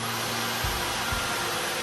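A Dyson V15 Detect cordless vacuum cleaner runs close up with a steady, loud whirring hum that stays constant throughout.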